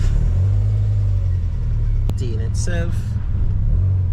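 A Subaru with a rebuilt EJ25 engine on a test drive, a loud steady low engine rumble from inside the car, with someone speaking briefly over it.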